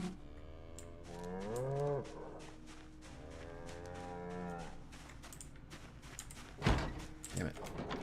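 A cow in a video game gives two long, low moos in a row, with light clicking and a sharp thump near the end.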